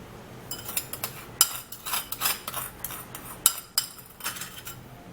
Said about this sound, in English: I'll have to transfer that into the same bowl and then give it a little stir.